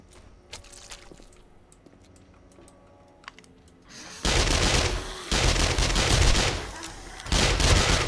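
Bursts of loud gunfire from the survival game 7 Days To Die break out after a stretch of quiet clicking and footsteps, then keep going in heavy sustained volleys with short gaps.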